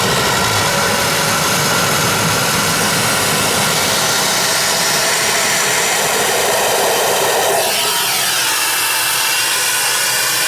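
A spot cleaner running loud and steady while sucking water up from a wash tub to flush its hose, a harsh continuous motor whine with gurgling suction that shifts near the end.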